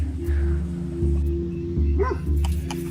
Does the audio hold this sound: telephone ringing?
no